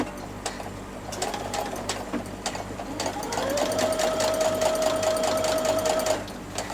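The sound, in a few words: sewing machine top stitching a pocket with edge stitching foot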